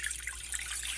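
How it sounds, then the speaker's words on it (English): Milk poured from a container into a saucepan while making eggnog, a steady, soft liquid trickle and splash that runs without a break for about a second, quiet and close, with no voices over it. "Pour the milk into a saucepan."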